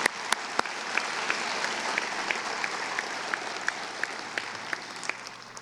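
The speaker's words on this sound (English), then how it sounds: "Another round of applause for Zach." High school graduation crowd applauds a speaker, steady clapping from a large audience with a few sharper, nearer claps standing out at regular moments.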